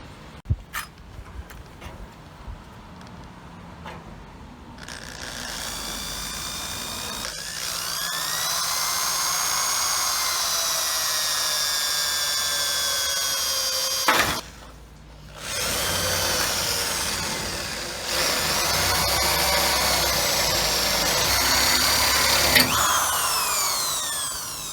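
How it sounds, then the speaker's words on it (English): A power drill whines loudly in long sustained bursts while drilling bolt holes for a fabricated door handle, pitch wavering under load, with a brief pause midway and a few small knocks at the start. "I'll drill a hole there, that gets bolted in the inside"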